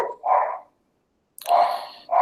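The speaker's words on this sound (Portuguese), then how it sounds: "tem uns cachorros latindo aqui" Dogs barking nearby in short loud bursts, a few separate barks with a silent gap between them and no talking over them.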